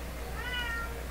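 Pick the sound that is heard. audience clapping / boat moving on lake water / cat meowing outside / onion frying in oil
cat meowing outside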